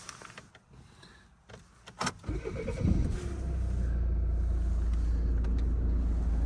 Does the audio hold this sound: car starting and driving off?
yes